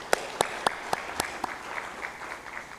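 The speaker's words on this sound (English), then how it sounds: "Can we give him another round of applause?" Conference audience applause starts with a few sharp, separate claps and thins into a faint, scattered patter that fades over a few seconds.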